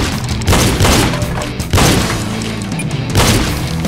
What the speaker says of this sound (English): Stop shooting hostages.